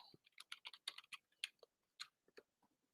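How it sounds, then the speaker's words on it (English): Someone types on a computer keyboard in quiet close bursts of sharp clicks, with short pauses between groups of keystrokes and no talking. "I'm typing something."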